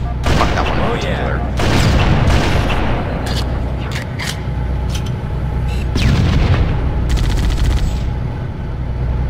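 Plasma rifle and other weapon fire in the Halo mission Assault on the Control Room on Heroic, with dense overlapping bursts, booms and rapid shots filling the whole span loudly, mixed with faint voices.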